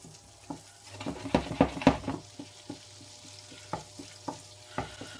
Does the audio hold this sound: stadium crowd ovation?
no